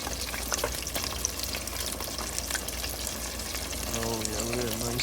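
A rainbow trout fillet frying in a pan: a steady, even sizzle that runs throughout, with a voice starting to talk over it near the end.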